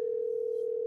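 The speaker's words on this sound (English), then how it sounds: "My phone's ringing here." A telephone line sounds during a wrestling podcast call-in show as a single steady, loud tone held throughout the short moment, with no talking over it.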